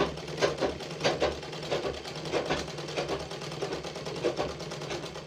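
A sewing machine stitching at a beginners' tailoring class, rapid rhythmic mechanical clatter with regular pulsing bursts, close and steady.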